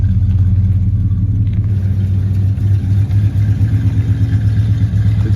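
A 1969 Dodge Charger's 318 V8 idles close by with a loud, steady, throbbing rumble and a slightly uneven lope, the exhaust still clearing out, with no voices over it.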